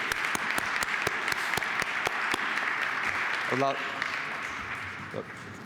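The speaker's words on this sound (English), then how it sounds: "Let's give a final round of applause, I think, to all of the awardees" Audience applause at the closing ceremony and annual awards of SSC Expo 2014, a steady broadband clapping wash through the clip with a few sharp near claps and a brief voice near the end.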